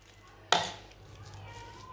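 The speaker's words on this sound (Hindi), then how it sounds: "सारे आलूओं को इसी तरह मैश कर लेंगे" A single sharp, close thud of a spoon pressing into boiled potatoes, with the soft mashing noise fading away afterwards and low background hum.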